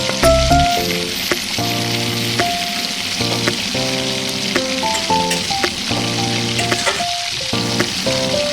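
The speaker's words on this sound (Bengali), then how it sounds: "এবার আমি রসুন ভাজছি এর মধ্যে" Garlic fries in a pan with browned onions for a chicken curry, giving a continuous soft sizzle beneath louder tuneful background music throughout.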